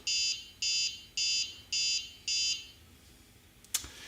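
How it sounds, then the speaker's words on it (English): A hobby-kit burglar alarm triggered by a distance sensor sounds five evenly spaced, loud electronic buzzer beeps, then falls quiet before a sharp click near the end. "And you'll notice that the alarm goes off."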